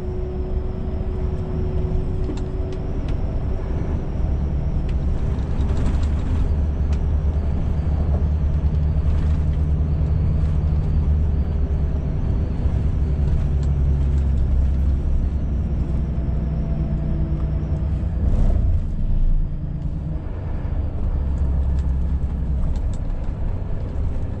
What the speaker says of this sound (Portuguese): Bastante movimento de caminhão, hein?